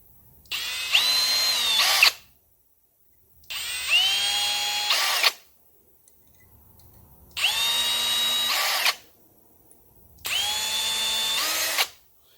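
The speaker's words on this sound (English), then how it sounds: "and just drill through the holes." A power drill with a small starter bit whines through four separate bursts, drilling pilot holes through a laser-cut metal logo, each a couple of seconds long with short pauses between, loud and close.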